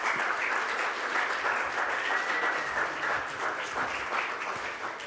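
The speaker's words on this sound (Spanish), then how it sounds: "Pues muchas gracias, Javier, para quien les pido un fuerte aplauso." An audience welcomes a speaker with sustained applause at a university talk on sport and spirituality, a dense, even wash of clapping that tapers slightly toward the end.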